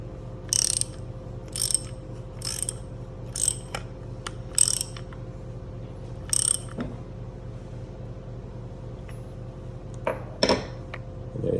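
Ratchet with a 27mm socket tightening the steam chamber nut on a Lavazza Espresso Point machine, heard as short bursts of dry metallic clicking repeated several times, close up against a steady low mechanical hum.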